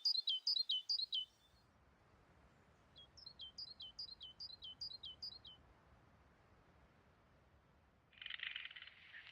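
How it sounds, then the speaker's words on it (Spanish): Birds sing at dawn in the Algezares countryside: two bursts of rapid, high, repeated chirps ring out against a quiet, faint background, followed near the end by a short hissing burst. "Los pájaros anuncian la llegada de un nuevo día."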